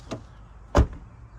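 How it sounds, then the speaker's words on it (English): A Lexus LX470 door shuts with a solid, close thump, and the rear pressure-relief flaps let air out as it closes. A lighter knock comes just before it, and no one speaks. "There are flaps back there to relieve pressure. When you close the doors, you can hear them."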